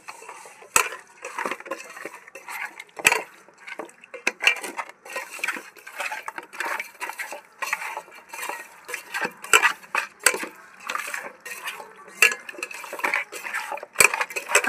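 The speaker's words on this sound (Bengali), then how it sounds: "ভালো করে মাছটা নুন হলুদ মাখিয়ে নেব।" Magur catfish being rubbed by hand with salt, turmeric and a little mustard oil in a bowl, giving wet squelching and light clinks of the dish in an irregular rhythm, close and fairly soft.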